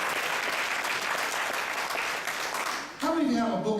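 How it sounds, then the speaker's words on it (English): Audience applause at a motivational speaking event, sustained dense clapping that eases briefly, then a voice begins speaking over the tail end. "Yes, give another round of applause."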